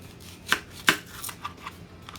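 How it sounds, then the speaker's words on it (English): A knife cuts onion halves on a cutting board for a chicken quesadilla, making two distinct sharp chops followed by a few softer taps and scrapes, close and clear with no talk. "So with my halves, I'm going to cut them in half."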